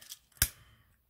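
Scissors make one sharp, close snip through excess heat-transfer vinyl on a hair bow, a single crisp cut with a short tail, then near silence.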